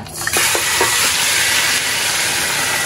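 Fat and bones drop into hot oil and break into a loud, steady sizzle, with a few sharp crackles at the start and then a dense, unbroken frying hiss close by.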